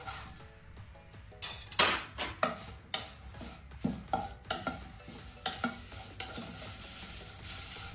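Curry leaves sizzle in hot oil under repeated stirring, a spoon scraping and clinking against the pan in a steady rhythm, close by.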